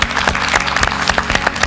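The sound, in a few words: audience applause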